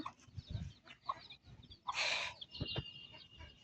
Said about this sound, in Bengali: এই যে দেখতে পাচ্ছেন মুরগিগুলো